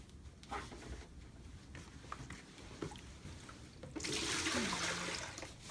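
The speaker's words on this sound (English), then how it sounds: "Then you're going to pour this in the toilet." Liquid poured into a toilet, a rushing splash that starts after some quiet handling noises and continues steadily, close by.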